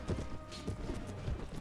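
Horse hooves gallop in the video game Mount & Blade Warband during a siege battle, a steady rapid clip-clop rhythm mixed with battle noise and no talk.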